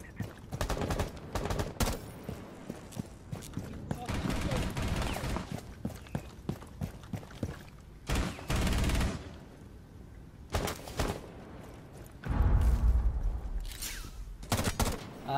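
Gunfire through walls in the video game Rainbow Six Siege, loud bursts and rapid single shots arriving in clusters with short gaps, some sustained automatic runs, and heavy low thumps near the end.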